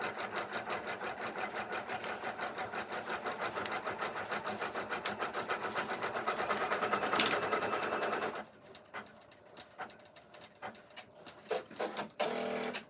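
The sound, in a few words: embroidery machine running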